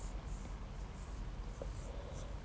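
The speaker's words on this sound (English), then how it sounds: "So just write it down," A pen scratches out a short label on a paper corset pattern draft in soft, intermittent strokes, faint and close, over a steady low room hum.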